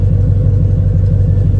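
A 1996 Dodge Ram engine converted from fuel injection to carburetion idles inside a 1967 Plymouth Valiant, giving a steady, loud low rumble with an even throb and no gaps.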